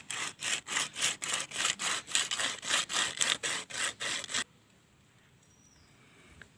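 A lotus seed is rubbed against a rough surface to scarify it, giving about a dozen rhythmic, rasping back-and-forth scrapes, close and loud, before stopping abruptly into quiet.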